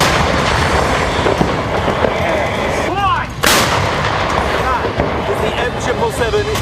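Booming artillery fire from a US-made M777 howitzer, heavy repeated blasts amid dense battlefield noise, with a sharp loud burst near the middle and voices mixed in.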